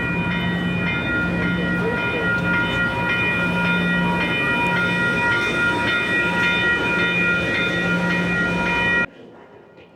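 A passenger train rumbles past loudly and steadily, with sustained whining tones and a pulsing low hum, then abruptly drops away near the end.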